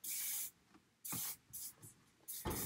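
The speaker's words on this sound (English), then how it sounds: "I'm going to take my hairspray" Hairspray hisses from an aerosol can onto hair in several short bursts, close and crisp, with brief pauses between each spray.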